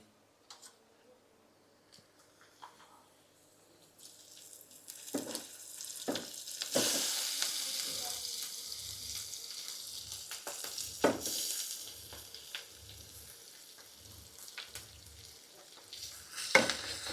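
Ivy gourd chutney tempering fries and gets stirred in a pan, with a soft sizzle and repeated spoon scrapes and knocks against the pan, steady and fairly quiet with no talk.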